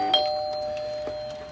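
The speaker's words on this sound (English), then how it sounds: "doesn't ring the doorbell, which does work. Let's just test it." A working home doorbell rung as a test gives a single short chime near the start, followed by a fainter second tone about a second later, against a quiet indoor background.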